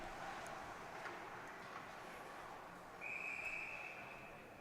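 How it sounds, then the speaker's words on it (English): A referee's whistle sounds at a high school boys' hockey game, a single sustained shrill blast in the latter half, fairly distant and faint over crowd and arena noise. "Got a whistle here."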